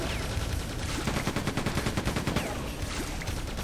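Enemy infantry gunfire in Quake II: The Reckoning 2023 remaster, rapid dense bursts of shots rattling steadily at close range for the whole stretch, with no talking.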